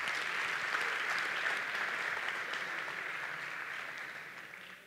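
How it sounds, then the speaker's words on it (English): Conference audience applauding former speakers at a tech event, a dense, even round of clapping from a crowd that holds steady and then slowly tapers off, no voices over it. "please make a big, big applause for all former speakers up to here"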